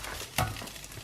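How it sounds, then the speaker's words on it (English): Quorn pieces fry in a pan greased with Frylight spray, a brief burst of sizzle and a stirring scrape rising out of a quiet kitchen background, with no talking. "now I'm going to put in the Quorn that I've got"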